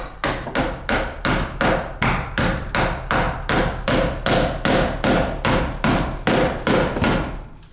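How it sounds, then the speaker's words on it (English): Repeated loud hammer blows strike a wooden wall stud in a mobile home in a steady, quick rhythm, about two per second, each sharp knock ringing briefly before the next. "We hammer it in."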